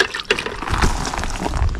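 Water is poured from a cup onto cardboard in a garden weed-control setup, a close splashing, gurgling pour that varies in strength over a couple of seconds, with no talk.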